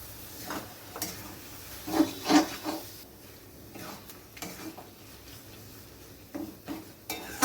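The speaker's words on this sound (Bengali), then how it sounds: "পনিরটা দিয়ে আমি ভালোভাবে মিশিয়ে নিলাম" Paneer being stirred into spinach keema in a pan, heard as light, irregular taps and scrapes of a spoon against the pan, close and fairly quiet, with no talking.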